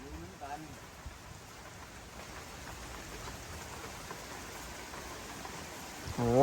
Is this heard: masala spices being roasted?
no